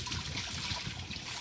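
Fresh water trickles steadily from a public spout at Guaratuba, a continuous close splashing stream with no voices.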